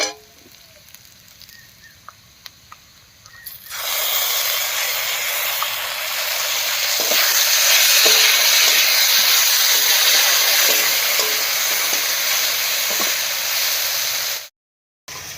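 Potatoes and mung dal frying in a pan, a near-silent start giving way to a loud, steady sizzling hiss that carries on alone for several seconds before cutting off briefly at the end.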